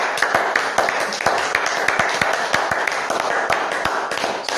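A church congregation clapping in a steady, rhythmic beat, many hands striking together in unison at an even tempo, close and continuous.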